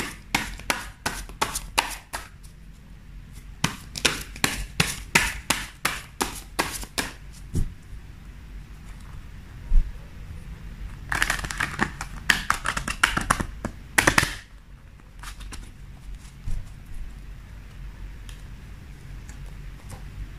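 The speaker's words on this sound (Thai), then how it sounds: "ขออนุญาตสับไพ่นะคะ" Tarot cards being shuffled by hand at a reading table, with bursts of crisp riffling and tapping clicks in clusters, pausing briefly and then resuming, close and fairly loud with no talk.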